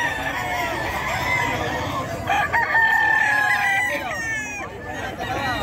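Chickens and roosters crow and cluck repeatedly at a poultry market in Bocaue, overlapping calls up close against a busy background, with some voices talking faintly underneath.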